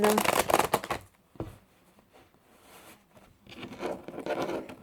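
Tarot cards being shuffled by hand, a quick burst of papery riffling and patter that fades into quiet handling noises, then a second softer flurry of card shuffling near the end.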